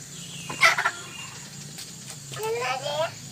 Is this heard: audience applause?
no